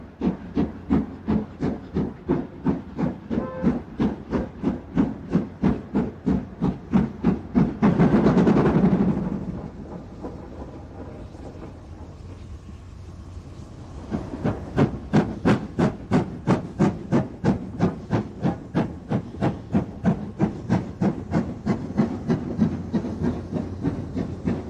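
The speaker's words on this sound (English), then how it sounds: "Here a Black 5 gets to grips with a train organised by the Scottish Railway Preservation Society." A Black 5 steam locomotive hauling a Scottish Railway Preservation Society train toward Carlisle, with loud rhythmic exhaust beats, a burst of hissing steam partway through, a quieter stretch, then the steady chuffing returning strongly.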